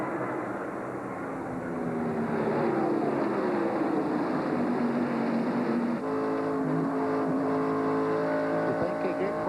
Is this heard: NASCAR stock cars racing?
yes